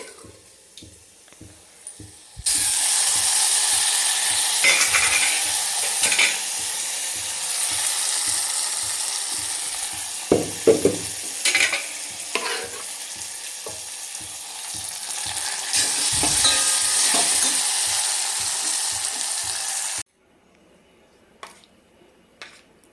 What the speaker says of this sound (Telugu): ఇప్పుడు తిరగమాత వేగింది పప్పు వేసేసుకోవాలి